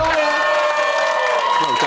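Studio audience on a live celebrity reality-show spin-off breaks into loud, sustained applause mixed with cheering and whoops, a dense crowd roar holding steady throughout.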